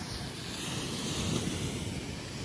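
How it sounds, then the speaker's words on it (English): Surf washing onto the wide beach at Long Bay, Jamaica: a faint, continuous rush of waves mixed with wind buffeting the microphone, with no one speaking. "this beach is just beautiful because of how big it is"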